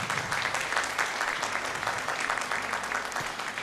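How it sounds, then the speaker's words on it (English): Audience applause at a college convocation ceremony for the college CEO, steady sustained clapping from a large crowd, moderately loud and even throughout. "Please give him a big round of applause"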